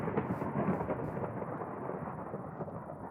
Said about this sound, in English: why is it lightning in the middle of the day?